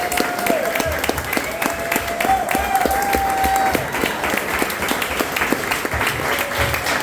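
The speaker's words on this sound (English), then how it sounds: "can we get a round of applause for our panelists?" A room full of people clapping steadily for panelists at a talk, the applause close and even, with some music or tones playing underneath.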